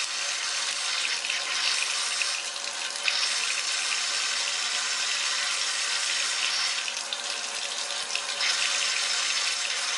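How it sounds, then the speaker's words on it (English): Cold water runs from a sink tap in a steady, even stream, close and fairly loud, with no voices over it for the whole stretch. "you're going to turn the sink on, cold water, turn it on just like that"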